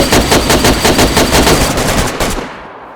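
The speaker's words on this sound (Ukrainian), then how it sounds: "Вань, ти стріляєш?" Rapid automatic gunfire in the survival game DayZ, a loud sustained burst of repeated shots that fades out near the end, with no voices.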